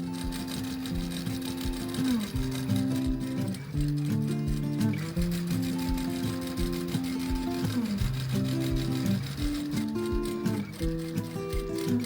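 A sewing machine stitches steadily and close by, its fast rhythmic whir running throughout with no talk, while background music with shifting tones plays underneath.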